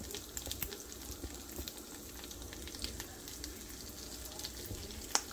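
Curry leaves hit hot oil for chitranna, South Indian lemon rice, and crackle and sizzle softly with scattered pops, fairly faint and close, without talk.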